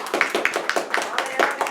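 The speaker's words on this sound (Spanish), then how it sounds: "Y ahora un aplauso" A lecture audience claps in rhythmic bursts. The applause is moderately loud and close, with a voice speaking over it.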